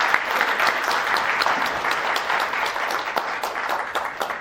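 An audience at a business forum claps as an award recipient is called up to the stage, a dense, even round of applause from many hands sustained across the full stretch.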